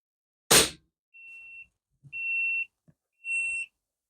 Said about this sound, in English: the beeping on that is telling you it's damaging to the ears